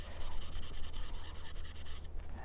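Steady scratchy rubbing of a Scotch-Brite-type scouring pad on the slate surface of a turkey call, in quick repeated strokes, close up, with no voices.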